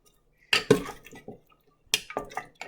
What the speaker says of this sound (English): the last thing I'm going to do is give it a little stir